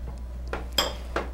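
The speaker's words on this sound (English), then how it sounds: "I will just mix the honey granules" Clinks of a utensil against a bowl while honey granules are mixed for a gemstone facial treatment: three short, light knocks spaced apart, close and fairly quiet, with no talking.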